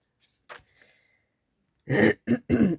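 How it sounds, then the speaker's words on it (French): A few faint throat sounds are followed by three loud, close coughs in quick succession. "je tousse encore un petit peu"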